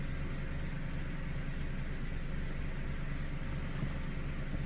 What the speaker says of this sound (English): the engine runs pretty smooth